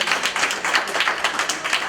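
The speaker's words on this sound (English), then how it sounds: "So give her a clap." An audience claps to encourage a shy young performer named Destiny, a steady burst of many hands clapping together, fairly close and loud, with no talking over it.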